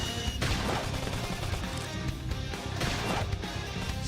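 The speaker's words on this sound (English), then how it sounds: "gunfire." Gunfire in the video game Xenoblade Chronicles X Definitive Edition, a dense, loud barrage of combat blasts and crashes running continuously without pause.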